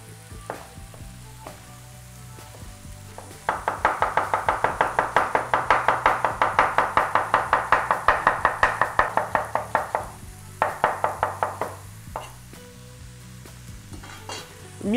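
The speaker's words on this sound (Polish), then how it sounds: "a ja pokroję teraz dwie średniej wielkości cebulę" A knife slicing two medium onions into thin strips on a board, a fast regular run of chopping strokes in two bursts, over a steady sizzle of pork tenderloin browning in a pot.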